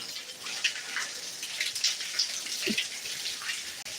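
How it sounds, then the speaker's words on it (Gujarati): Rain falling on a wet parking area, a steady close patter of drops splashing on the surface, dense and even with no voices. "તો મિત્રો જોવો વરસાદ આવે છે એકદમ મસ્ત મજાનો પાર્કિંગ આખું ભીનું છે"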